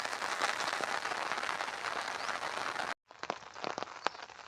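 Heavy downpour during a second round of intense rain in Tamil Nadu, a dense steady hiss of pouring water that cuts out briefly and returns slightly thinner with scattered louder drips and splashes.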